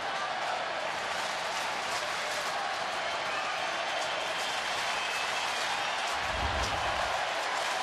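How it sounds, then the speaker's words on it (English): A sellout Phillies crowd at a baseball stadium fills the air with a dense, steady roar of cheering and clapping, constant and broad throughout. "And now the crowd, the 183rd consecutive sellout during the regular season, starting to make some noise"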